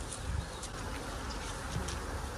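Bees from a disturbed hive in a yard buzz densely all around, a constant loud swarming drone with individual insects zipping past close by.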